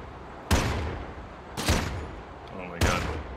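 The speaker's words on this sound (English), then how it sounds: "I wonder if I can shoot at them with my pistol." Pistol shots in the video game Worlds Adrift: three loud, sharp reports spaced about a second apart, each with a short decaying tail over a low background hum.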